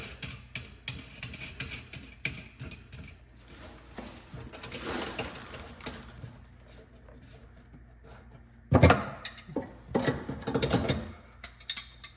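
A metal nut being tightened onto a bathroom faucet's drain pipe over a white washer and rubber, giving scattered close clicks and light rattles, with a louder metallic clank and a burst of scraping near the end.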